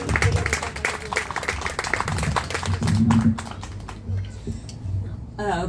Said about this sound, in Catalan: arrenquem amb un fort aplaudiment per l'Ester Vizcarra i Fortuny